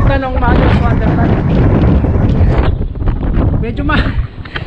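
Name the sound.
wind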